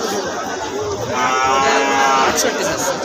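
Calves low briefly at a crowded cattle market, a thin, wavering moo rising over dense chatter and voices for a couple of seconds.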